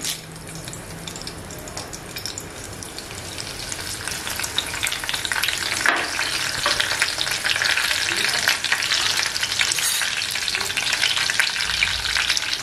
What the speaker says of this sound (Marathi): लसूण टाकलेले, कढीपत्ताही टाकते.